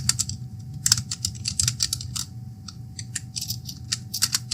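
Rapid, uneven keystrokes on a computer keyboard while C++ code is typed, clicks bunched in quick bursts with short pauses, close and fairly quiet over a low background hum.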